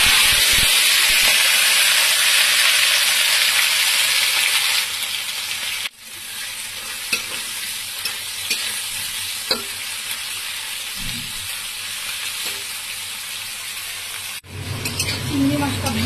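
Prawns frying in a little hot oil in a wok, a steady loud sizzle and hiss running throughout with stirring clatter, briefly dipping twice before resuming.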